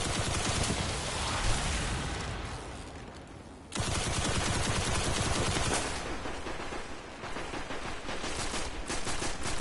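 Enemy gunfire in the video game Destiny, including a splicer shooting through cover, rattles in dense, continuous rapid bursts, loud and close, with a brief drop before resuming.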